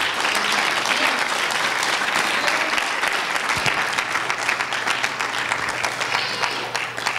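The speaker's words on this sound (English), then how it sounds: "Clap your hands unto the Lord." A church congregation claps together during worship, dense steady applause filling the room throughout with a faint voice or two in the background.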